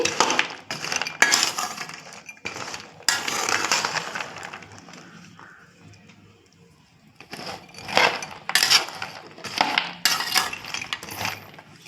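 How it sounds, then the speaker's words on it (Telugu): Fried govvalu shells are stirred through hot jaggery syrup in a pan, giving repeated scraping clinks and knocks in bursts, with a quieter pause midway before the stirring picks up again. "ఇలా మిక్స్ చేసుకోవాలి పాకం దగ్గరలో దగ్గర పడే వరకు మిక్స్ చేసుకునే ఉండాలి"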